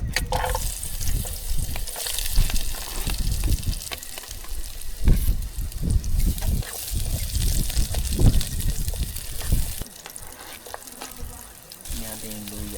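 Garlic and onion sizzle and crackle in hot cooking oil, a steady close frying hiss with stirring clatter, while people talk over it.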